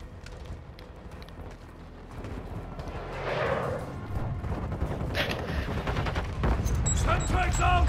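Video game gunfire crackles in rapid volleys amid metallic clatter and rising battle noise, growing denser and louder toward the end, with voices talking over it.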